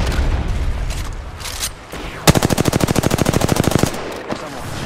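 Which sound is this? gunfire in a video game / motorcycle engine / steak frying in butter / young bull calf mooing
gunfire in a video game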